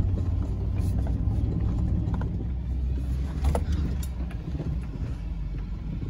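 A firewood chainsaw idles low outdoors in the snow, a steady low rumbling putter running continuously and fairly loud with no talk over it.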